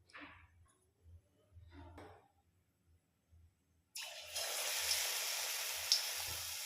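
Besan-battered cauliflower pakoras dropped into hot oil in a kadai: a few faint clinks and soft handling noises, then a sudden, steady hiss of frying that swells and holds close and clear.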